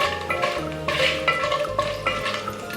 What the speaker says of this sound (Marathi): 2 मिनटं यांना व्यवस्थित तेलात फ्राय करून घेऊया